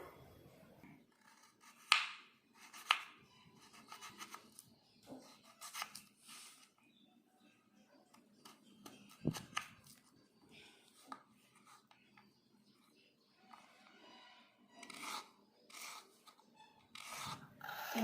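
Knife slicing peeled medium potatoes into thin strips for French fries, with scattered crisp cuts and scraping against a board, fairly close, under quiet background noise.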